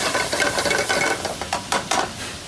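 Shallots and green peppercorns sauté in a pan, giving a steady broadband sizzle with scraping stir strokes and a few sharper clatters near the end.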